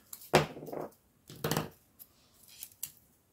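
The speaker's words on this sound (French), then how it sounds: "On coupe un petit morceau pour le point de colle." Scissors snip small pieces for a stamped paper-craft poinsettia bouquet: four short, crisp cuts spaced about half a second apart, close and fairly quiet, with no talking.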